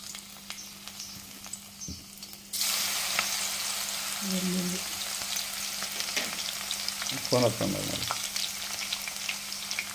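Fenugreek seeds hitting hot oil that has been heated and switched off, for a raw mango chutney: a quiet start, then a sudden close sizzle that stays steady, with a couple of faint knocks and a brief background voice.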